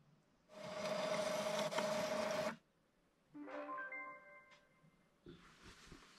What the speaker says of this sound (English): I just need to print these out.